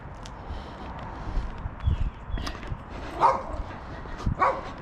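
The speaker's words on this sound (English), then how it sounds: "Oh, there's a killer dog." A dog barks and yips a few times during an outdoor walk, the barks fairly close and irregular, mixed with footsteps and light background noise.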